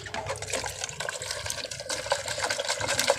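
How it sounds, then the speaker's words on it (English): Water sloshing and splashing inside a small glass betta fish jar being shaken during cleaning, a steady close, moderately loud churning with no talking. "We'll put some water, that, shake it"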